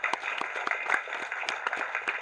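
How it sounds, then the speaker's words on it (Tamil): An audience at a film audio launch event claps steadily, a dense crackle of many hands that keeps an even level throughout without pause. "ஒரு கைத்தட்டல் கொடுக்கலாமே"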